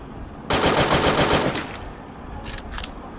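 Rapid automatic gunfire in a video game: one loud sustained burst lasting about a second, followed after a pause by two short, quieter bursts, with no talk over it.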